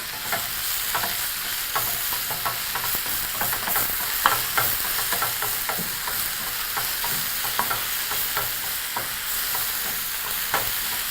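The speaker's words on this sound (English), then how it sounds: "to toss everything together in the pan" Spinach and matumbo sizzle steadily in a hot pan while a utensil stirs them, giving close, continuous frying hiss broken by frequent scraping clicks, with no voices.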